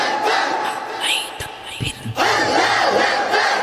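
A large crowd at an Islamic waz mahfil gathering roars back in unison to a takbir call, a loud massed shout that swells after a brief lull and holds steady to the end.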